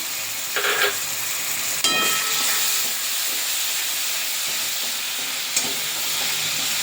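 Tomato paste frying in spiced masala in a pan, a constant close hiss and sizzle with a few scraping stirs and brief sharp clinks of a spoon.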